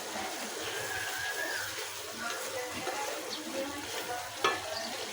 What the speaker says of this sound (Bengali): এখন দিব কাঁচামরিচ, দিচ্ছি কাঁচামরিচ খালি।